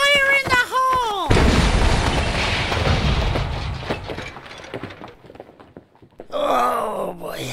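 A cartoon cannon with a lit fuse goes off with a sudden heavy boom, followed by a long rumbling roar that slowly fades, while a character's voice groans right before the blast and again as it dies away.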